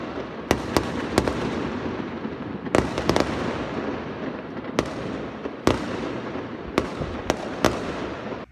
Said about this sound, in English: So fireworks go on forever here.